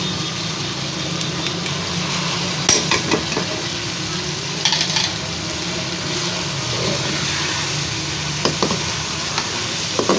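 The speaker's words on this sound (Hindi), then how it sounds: "इसको भी इसी तरह पहले फ्राई कर लेंगे, दाल को भून लेंगे।" Mash dal frying and being stirred into spiced masala in a pan, a constant loud sizzle with occasional sharper spoon scrapes and clinks, no voices.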